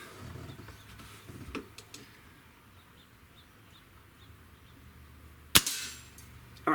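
A Crosman Mag-Fire Ultra air rifle fires a single sharp, loud crack late in an otherwise quiet outdoor stretch, with faint ambient chirps in the background.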